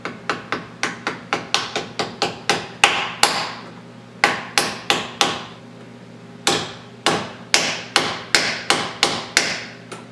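An 8-inch unsupported aluminum piece held in a vise rings hollow under milling, a rapid series of sharp metallic strikes in quick rhythmic bursts with brief pauses between groups, close and fairly loud.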